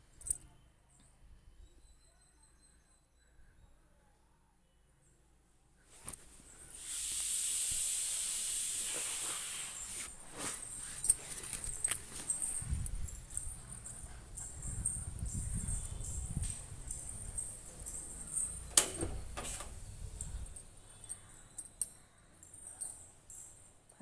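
A pot of brinjal tamarind gravy cooks on the stove. It is quiet at first, then a sharp hiss of steam rises, and low bubbling and scattered clicks follow, all faint and close.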